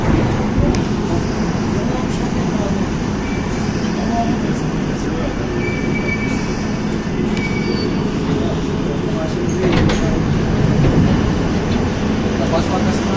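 A London Underground Piccadilly line train runs through the tunnels with a loud rumble, rattling carriages and squealing wheels, steady throughout with bursts of metallic screech.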